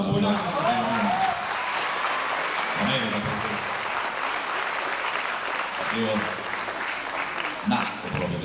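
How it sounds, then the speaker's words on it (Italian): Audience applause in a theatre during a concert in Turin, a steady broadband wash that runs the whole time, with voices talking over it at moments. "C'è in memoria un bel applauso."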